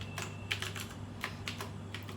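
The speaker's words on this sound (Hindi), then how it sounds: "आप अपना पासवर्ड टाइप करेंगे" Keys on a computer keyboard tapped in quick, uneven clicks while a password is entered during an online income tax return filing, close and fairly quiet over a steady low hum, with no talking.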